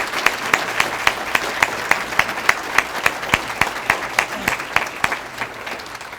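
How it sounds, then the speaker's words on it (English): Enthusiastic applause from a luncheon audience greeting a guest of honor, with crisp, closely spaced claps in a steady pattern throughout, loud and near before tapering slightly at the end. "Let's give him a big round of applause."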